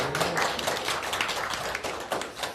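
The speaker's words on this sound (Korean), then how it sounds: "멀리 오셨으니까 박수 좀 부탁드립니다" An audience claps together in sustained applause for the whole stretch, a dense wash of hand claps at close to moderate distance with no voices over it.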